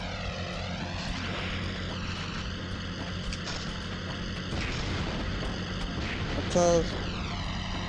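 A propeller airplane in the Spider-Man 2 video game drones steadily with a throbbing engine hum, close and continuous, while a voice briefly speaks over it.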